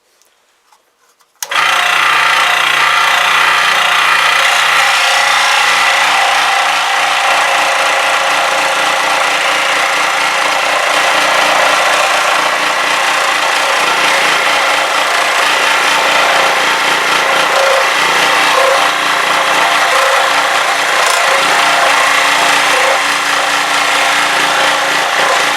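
A power tool cuts wood while building a kitchen cutter on a rainy day, starting abruptly after a near-silent moment and then running loud and steady for the rest of the stretch with a constant buzzing whine.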